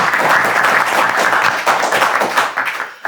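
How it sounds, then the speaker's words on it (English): A live audience in a podcast studio claps loudly and continuously, a dense, close burst of applause that thins slightly toward the end. "Clap it up."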